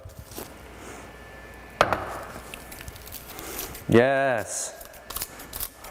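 Scissors cut through dried nori sheets for ramen, making a single sharp snip plus a few faint cuts. They are heard in a quiet kitchen, followed by a brief spoken word.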